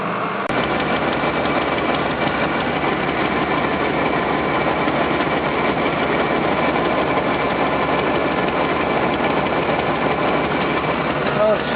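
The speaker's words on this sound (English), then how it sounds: "hear an exhaust leak." A steady car engine idle with an exhaust manifold leak runs throughout with a fast, rattly ticking puff, close and continuous without pause.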